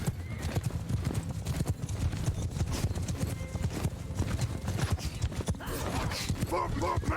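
Horse hooves clatter in a rapid, continuous clip-clop during a battle in Mount & Blade II: Bannerlord, dense and steady under background noise, with a brief whinny near the end.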